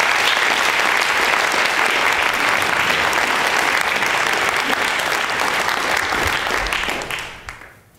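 Lecture audience applause greets the speakers Kwame Anthony Appiah and Ash Amin, a steady, even clapping that carries on for several seconds and then dies away quickly.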